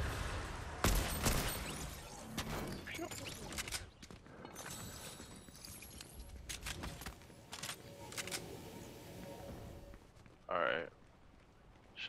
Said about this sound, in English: Shots west, northwest.